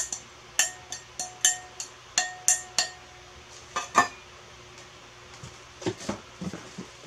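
A roughly thirty-year-old camping cup and plate set being handled: a string of light metallic clinks and taps, fairly close, in an irregular rhythm, followed by softer knocks and rustling.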